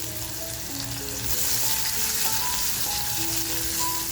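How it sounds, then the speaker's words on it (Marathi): Chopped garlic and cut green chili fry in hot oil in a kadhai, a steady loud sizzle that swells as the pieces hit the pan and crackles on throughout, with no talking. "तेल छान तापल्यानंतर बघा, लसूण जी चिरून घेतली आहे ती लसूण टाकते, मिरची कापून घेतलेली टाकते."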